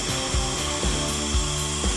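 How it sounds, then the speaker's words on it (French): A long bolt is hand-sawn to shorten it during boat maintenance in port, steady back-and-forth strokes rasping in an even rhythm of about two per second, close and alone. "Ouais, je vais la couper. Bon, eh ben allez, on va scier un petit peu."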